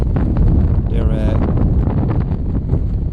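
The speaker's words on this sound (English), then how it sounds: "Massive wind off our back" Strong wind buffets the microphone on a sea cliff coastline during a fishing competition, a loud steady roar with rumbling gusts, while a person talks briefly.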